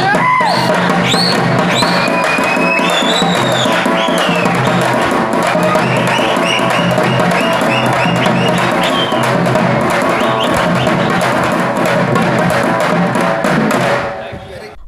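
After a tamate frame-drum jugalbandi, an audience cheers and claps loudly with scattered whoops and shouts. The crowd noise is dense and continuous, then fades at the very end.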